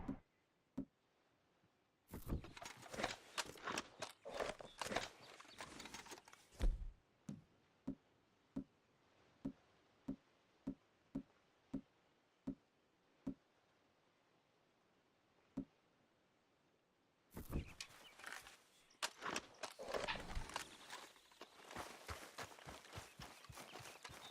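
Horse hooves in Red Dead Redemption 2 clip-clop at a steady walk, with sharp, evenly spaced hits. Denser flurries of hoofbeats come at the start and again near the end, and there is no talk over them.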